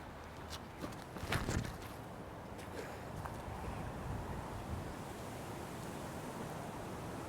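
Steady wind blowing across Renaissance Park, an open outdoor park, during a disc golf round, a constant broadband rush with some microphone buffeting, a few brief louder gusts and faint clicks early on, no talking.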